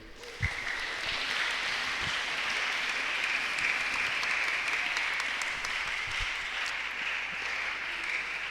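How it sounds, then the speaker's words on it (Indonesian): Audience applause at a Ramadan religious gathering and iftar, sustained even clapping from a crowd lasting the whole stretch, fairly loud and steady with no clear talk over it. "Kita berikan tepuk tangan terlebih dahulu"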